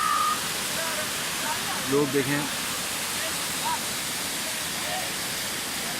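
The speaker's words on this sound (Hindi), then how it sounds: "और ये देखें खूबसूरत कुदरत का करिश्मा, पहाड़ों से पानी उतर रहा है" Mountain waterfall in a Kumrat Valley stream setting, heard as a steady broadband rush of falling water filling the whole clip, with brief voices speaking over it near the middle.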